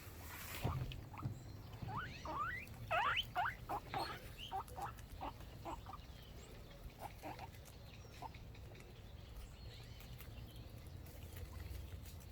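Guinea pigs eat a snack together in a quiet indoor setting. Soft, faint chirps and squeaks come in a quick cluster early on, then thin out over a low background hum.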